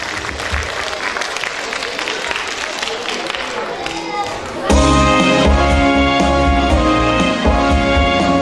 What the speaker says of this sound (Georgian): აპლოდისმენტები კიდევ ერთხელ.